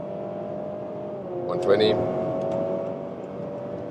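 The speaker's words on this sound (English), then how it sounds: "the engine sounds like a sports car, doesn't it?" A 2024 Honda CR-V in sport mode accelerates along a motorway with a steady engine drone that swells slightly midway. A person speaks briefly over the engine.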